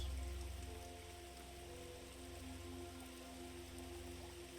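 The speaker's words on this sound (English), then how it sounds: "with just the sound of the rain, only occasionally being punctuated" Steady rain falls in a constant soft wash of patter, even and unbroken throughout, with a low hum underneath and no voices.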